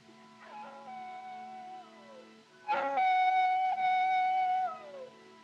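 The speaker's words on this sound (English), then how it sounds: "Them coyotes give me the creeps. It sounds, well, it sounds just like a baby." Coyotes howl at night in an Old West desert setting, a wavering howl rising then sliding down, followed by a louder, sustained howl with stacked harmonic tones that tapers off, heard alone.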